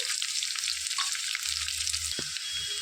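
Thinly sliced onions with chilies and curry leaves frying in oil for a bitter gourd fry, a dense continuous sizzle close up with a few faint clinks of stirring.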